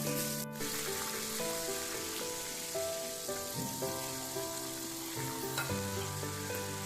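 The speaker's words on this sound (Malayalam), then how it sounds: "ഇത് നന്നായി ഡീപ് ഫ്രൈ ആണ് ചെയ്യേണ്ടത്." Chicken pieces deep frying in hot oil over a low to medium flame for KFC-style broasted chicken, a steady close sizzle and bubbling crackle with faint clinks of utensils over it.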